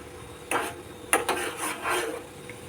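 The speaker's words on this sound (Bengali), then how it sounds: "আমি যেটুকু এখানে চা নিয়েছিলাম আমি সেটা এখানে অ্যাড করে দিয়ে এটাকে নাড়িয়ে দিলাম" A spoon stirs tea leaves into boiling water in a metal pot for spiced masala tea, giving a few scraping, clinking strokes against the pot in short bursts, close and fairly clear.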